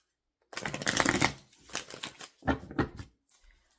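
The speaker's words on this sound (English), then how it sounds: "are you seeing how much I'm shuffling these cards?" Tarot cards being shuffled by hand, close and crisp, with a long riffling burst followed by several shorter shuffles and a final faint flick before silence.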